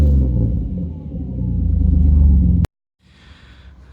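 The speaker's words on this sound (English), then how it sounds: "It's got a resonator and like a straight through muffler on it. You can have a little bit of a listen to it right now." Nissan Skyline R31 Series 3 with an RB25 engine and an exhaust fitted with a resonator and a straight-through muffler: a loud, deep exhaust rumble builds steadily, cuts off abruptly, then a quieter idle drone returns.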